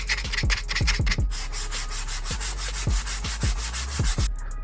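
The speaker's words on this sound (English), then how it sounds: "you're probably going to want to sand each of the parts" Steady back-and-forth sandpaper strokes rubbing the parts of a homemade HALO Infinite VK78 Commando prop rifle, close and rhythmic with a constant low hum beneath and no speech.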